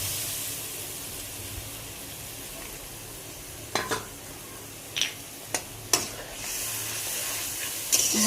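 Spice paste frying in ghee makes a low steady sizzle and hiss, punctuated after a few seconds by several sharp spoon taps and scrapes against the pan, heard up close without speech.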